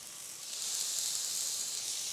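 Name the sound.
chicken skin sizzling in a pan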